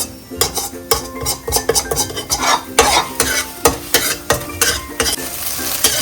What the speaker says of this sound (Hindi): जो एग हमने फेंटे थे पहले उसे ऑयल में स्क्रैम्बल कर लेंगे